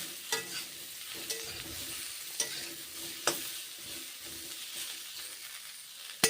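Vegetables fry in a pan with salt and turmeric, giving a soft steady sizzle under repeated stirring scrapes and a few sharp clinks of a spoon against the pan.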